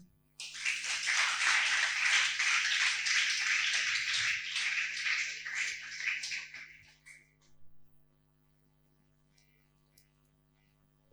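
A church congregation applauds together for about seven seconds, a dense, steady wash of clapping that fades out and leaves near silence with a low steady hum.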